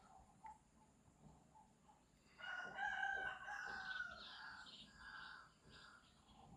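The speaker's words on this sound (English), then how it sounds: "Them chickens be singing, yo. Like, them chickens. Cockerels, or whatever you want to call them." A rooster crows loudly nearby for a couple of seconds, then a second, softer crow follows under faint outdoor background noise.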